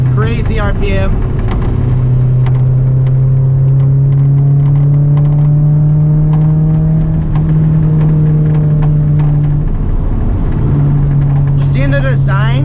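A 2002 Honda S2000 AP1's 2.0-litre F20C engine holds a high, steady rev toward 9,000 RPM with a strong whining drone, dipping briefly before climbing again, with voices at the start and end.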